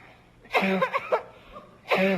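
A short burst of harsh, rapid whooping cough coughing, close and loud, followed after a pause by another cough.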